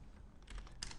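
Quick keystrokes on a computer keyboard while entering an expression in editing software, a few soft clicking bursts close by with no talking.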